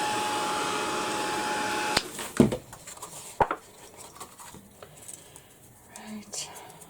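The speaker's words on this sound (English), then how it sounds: "I'm going to give this a quick blast with the heat gun" A heat gun blows a steady, loud rushing hiss for about two seconds to dry paint splats on a craft project, then cuts off, leaving quiet handling clicks and soft whispered talk.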